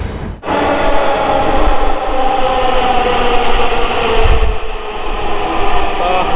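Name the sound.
metro train arriving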